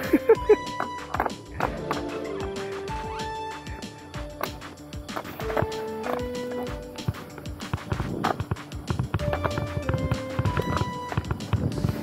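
Cattle hooves clop on a road as a cow chases a cyclist in Malaysia, a busy irregular patter of hoofbeats running throughout with voices talking over it.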